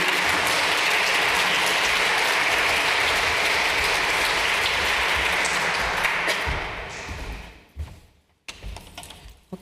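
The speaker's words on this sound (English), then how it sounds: "Please welcome them with a round of applause." Sustained applause from an audience at a journalism award ceremony held at the University of Vienna, dense and steady for several seconds before thinning out and fading into scattered claps.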